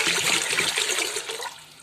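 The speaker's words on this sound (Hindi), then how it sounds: "मैं ये कुकर में अब कम से कम 1 लीटर पानी डालने" Water pours steadily into a pressure cooker for chicken corn soup, a loud, close, continuous gushing splash that tapers off near the end, with no talking.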